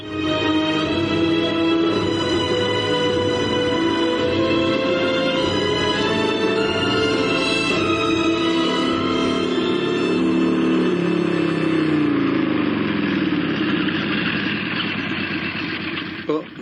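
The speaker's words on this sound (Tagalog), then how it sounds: "ari ko musakay sa habal-habal nga motor" A habal-habal motorcycle taxi engine idles steadily and loudly throughout, a constant low rumble with people talking over it.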